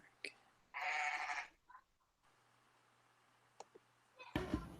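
A goat-bleat phone text tone sounds once as a loud, wavering burst lasting under a second, followed by quiet clicks and a sharp knock near the end.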